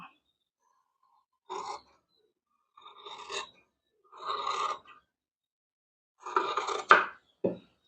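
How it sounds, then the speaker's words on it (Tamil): Scissors snip through blouse fabric while cutting out a 38-inch blouse: a handful of short, crisp cuts come one at a time with quiet pauses between them, close up and alone in a silent room. "அப்படியே அழகா கட் பண்ணி எடுத்துக்கலாம்"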